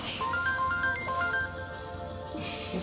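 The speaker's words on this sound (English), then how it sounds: "Your phone is ringing." A phone ringtone plays a brief, bright melodic pattern of stepped tones, fairly close, then fades into background room noise.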